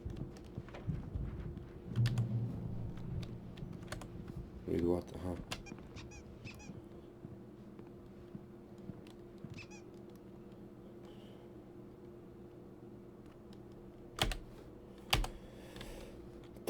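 Rapid typewriter key clatter in the Alan Wake video game, heard in short bursts alongside a brief honking squeak and spoken dialogue, with sharp loud clacks near the end.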